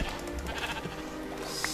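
Sheep bleating in the Minecraft video game, set against a dense, noisy game soundscape with short bleats and faint background sounds throughout.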